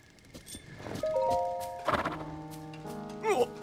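A giant white stallion in The Legend of Zelda: Tears of the Kingdom gives a loud, wavering neigh, with chiming game music tones and a second whinny close by.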